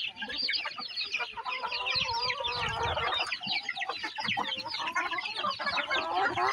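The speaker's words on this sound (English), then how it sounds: "Some hungry chickens." Hungry farm chickens cluck steadily in a busy, overlapping chorus, close and fairly loud, with a few hens calling over the rest and no talking.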